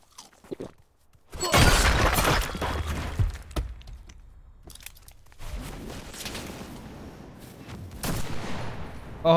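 Gunfire from the video game CRSED F.O.A.D. (Cuisine Royale), with loud bursts of rapid shots and crashing, shattering impacts. The shooting comes in several clusters separated by quieter gaps.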